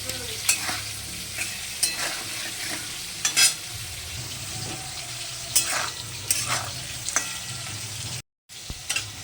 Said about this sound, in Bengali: তেল দিয়েছি, এর মধ্যে একটু জিরে ফোড়ন দেবো, তেজপাতা ফোড়ন দেবো।